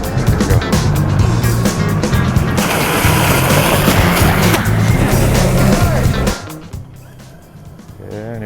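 Traxxas X-Maxx RC truck charging through a river, its motor whining loud and steady with churning water spray, then dropping away and quieter after about six seconds.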